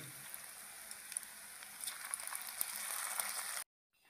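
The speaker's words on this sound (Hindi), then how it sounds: "और अब मैं ये फ्राई कर रहा हूँ इसमें ऑयल में।" Cornflour-coated mutton and potato burger patty frying in oil, giving a steady soft crackle with scattered pops for several seconds before cutting off abruptly into silence.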